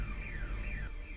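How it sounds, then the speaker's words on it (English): A hospital alarm in a TV drama scene sounds as a steady electronic tone with a wavering pitch sweep, holding at moderate level through the whole brief stretch over a low background rumble. "they changed the alarm sound"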